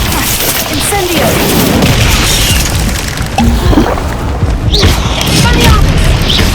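A fire spell cast in the Hogwarts Legacy video game, heard as a dense, loud whooshing burst amid a continuous barrage of booming spell effects, with voices shouting over it.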